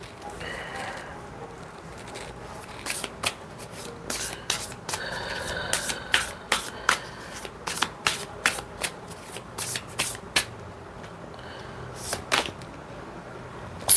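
Tarot cards are shuffled and drawn from the deck: a run of quick, crisp riffling and slapping bursts, close and fairly loud, over a quiet background.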